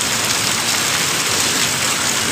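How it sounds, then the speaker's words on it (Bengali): Heavy rain pours onto the tin roof of a puffed-rice shop beside a market temple, making a dense, unbroken roar that stays loud and even from start to finish with no voices over it. "প্রচণ্ড জোরে বৃষ্টি হচ্ছে"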